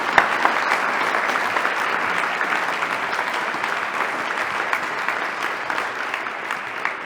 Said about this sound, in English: Please join me in giving him a warm round of applause.